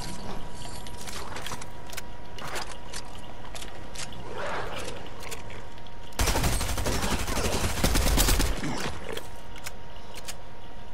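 Gunfire in the video game Fortnite: scattered shots early, then a dense loud burst of rapid fire for a couple of seconds midway, with no speech.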